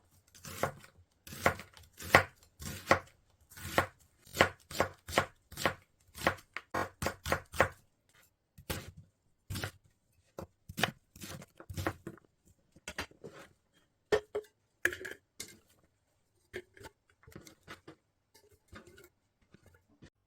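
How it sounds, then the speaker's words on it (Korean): A knife thinly slicing onion chops rapidly on a cutting board in quick bursts of sharp taps, slowing into scattered, irregular cuts toward the end, with no talking. "양파 반은 갈아주고 반은 썰어서 넣어줍니다."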